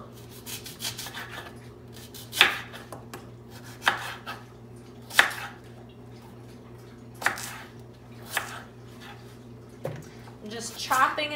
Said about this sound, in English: I'm just chopping and dropping basically into the bowl here